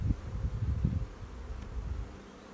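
A low, steady droning hum of many honey bees buzzing close by in a hive, continuous and moderately loud, with no voices.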